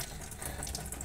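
Tap water runs steadily into a sink while eggs are rinsed under it, a continuous close hiss and splash with no talk.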